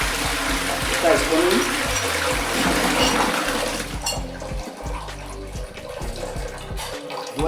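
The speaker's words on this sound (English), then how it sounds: "The water goes down and the tank begins to be filled up once again." A household toilet tank refilling after a flush, a steady close hiss and trickle of running water under someone talking, thinning to a quieter flow partway through.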